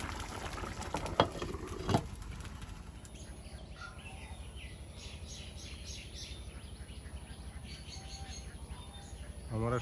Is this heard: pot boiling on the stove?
yes